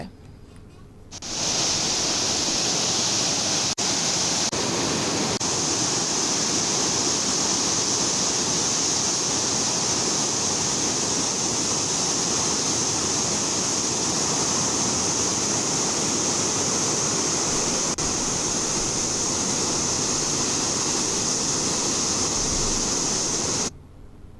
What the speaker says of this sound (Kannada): ಭೀಮಾ ನದಿಗೆ ನಿರಂತರವಾಗಿ ನೀರು ಬಿಡಲಾಗ್ತಾ ಇದ್ದು